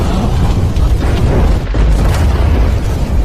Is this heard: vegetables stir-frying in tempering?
no